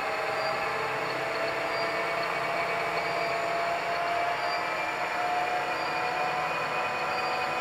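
A South Bend Turn-Nado 1860EVS gap bed engine lathe runs with its variable-speed spindle being adjusted, giving a steady, close mechanical hum with a thin whine that holds continuously throughout, with no voices.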